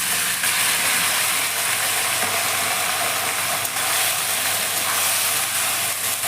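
Chopped onions frying in oil with mutton curry in a covered pot, a steady loud sizzle with a hissing texture that continues unbroken and close throughout.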